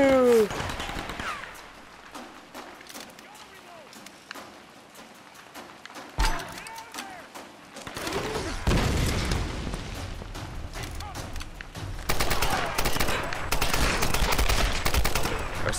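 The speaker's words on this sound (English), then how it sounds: "I still hate this machine gun." Machine gun fire in Tomb Raider 2013 comes in bursts, with sparse shots early and then dense, loud rapid volleys in the second half among other game sounds.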